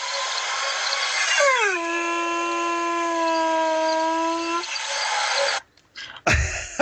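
A person imitates a hound dog howl with a loud, sustained wavering vocal tone that slides down and holds for a few seconds, followed by brief noisy bursts near the end.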